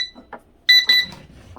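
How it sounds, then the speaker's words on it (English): A rechargeable digital kitchen timer sounding its alarm: two loud, piercing electronic beep bursts in quick succession after a couple of faint button clicks, close and clear. "And it's very loud and clear, telling you that the timer is done"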